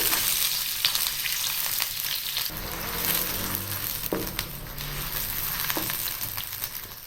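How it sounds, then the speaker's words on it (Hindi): Onions browning in half a cup of hot cooking oil, a steady, close frying sizzle with bright crackling and a few stirring clanks, continuous and fairly loud with no voice over it. "आधा कप कुकिंग ऑयल थोड़ा सा गर्म हो जाए तो फिर इसमें प्याज डाल के ब्राउन करते हैं।"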